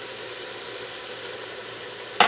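Onions and vegetables sauté in a pan for a healthy mushroom soup, a steady hissing sizzle ending with a brief sharp clatter.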